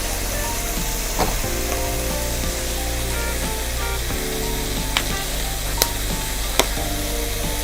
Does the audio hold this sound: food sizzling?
yes